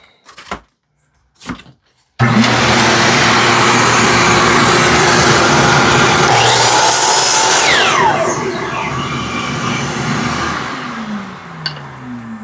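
A power saw cuts a wood board pushed against a stop block while making a birdhouse: two soft knocks, then a loud, steady whine of the blade through the wood for several seconds before the saw slowly winds down.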